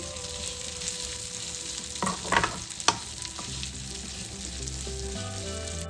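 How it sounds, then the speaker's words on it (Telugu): Vermicelli frying in ghee until brown for sweet payasam, a steady close sizzle with a few sharper scrapes and stirs midway, no voices. "ఇదే గీలో సేమియా కూడా ఫ్రై చేసుకున్నాం. బాగా బ్రౌన్ కలర్ వచ్చే వరకు ఫ్రై చేయాలండి సేమియాని."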